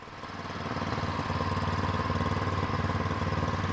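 A snow blower engine runs steadily nearby during a snowstorm, a loud, even, buzzing drone with a fast pulsing rhythm and no talk.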